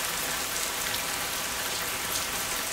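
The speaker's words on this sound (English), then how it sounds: "It is the rainy season." Steady rain falls in a rainy-season setting, an even, dense hiss of drops pattering on surfaces with no break.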